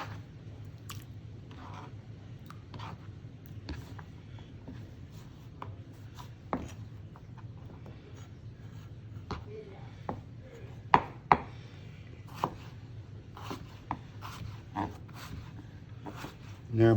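A knife dices raw potatoes on a cutting board. Soft, irregular chopping taps and clicks sound close but quiet over a low steady background hum, with a few sharper knocks near the end.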